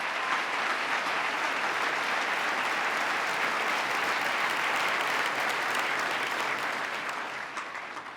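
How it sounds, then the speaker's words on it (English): Sustained applause from a large audience at a governor's agenda address for a guest named Akeem, a dense steady roar of clapping that tapers off toward the end, with no speech over it. "Give Akeem a big round of applause"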